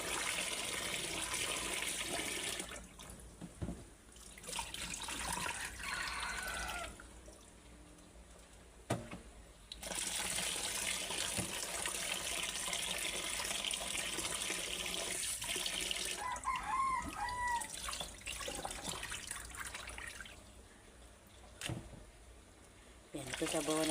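Water pours from a tap to soak glutinous rice for puto maya. Several loud gushing stretches start and stop across the span, separated by quieter pauses with faint drips and clinks, and a voice speaks at times.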